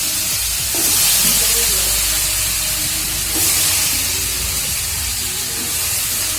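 Chopped vegetables for a chappathi kurma hitting hot oil in a frying pan, a loud steady sizzle that swells twice as more pieces go in, close and continuous.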